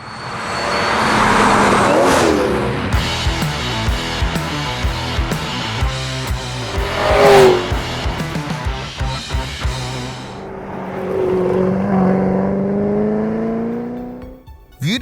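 A W1 Australian track car drives on a public road, its engine loud and close as it revs through rising gear pulls, with short gear-change breaks, then easing off near the end.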